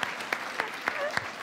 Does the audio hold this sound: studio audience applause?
yes